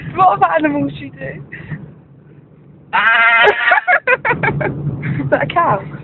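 A person imitates a sheep's bleat in a wavering, nasal voice, a short burst partway through, with other voices talking before and after it.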